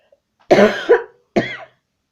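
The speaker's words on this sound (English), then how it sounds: "I've had this cough for 2 days." Three harsh coughs in quick succession, the first two close together and the third after a short pause, loud and close with no talk.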